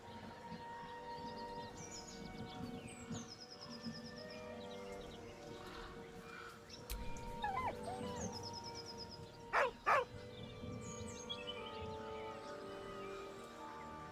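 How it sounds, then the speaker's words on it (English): A dog in the video game Baldur's Gate 3 whines faintly and mournfully amid soft ambient game sounds, with bird-like chirps and a couple of short, sharper yelps. "With a deep, heartbroken whine, the dog bows his head."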